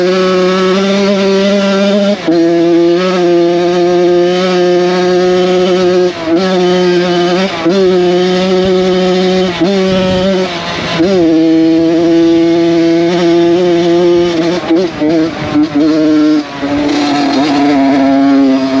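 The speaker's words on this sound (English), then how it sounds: "first official trail ride on the CR80" A rebuilt Honda CR80 dirt bike engine drones loud and close on a woodland trail ride, its steady high buzz rising and dipping with throttle changes and shifting through the whole stretch, with no talking.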